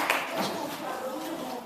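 A class of students claps together on command, short sharp group claps in a once-then-twice pattern, close by and mixed under a teacher's voice giving instructions.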